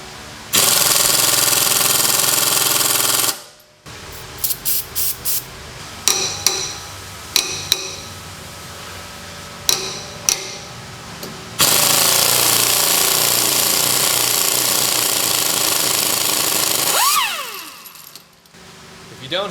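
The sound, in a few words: compressed air tool on car rear suspension fork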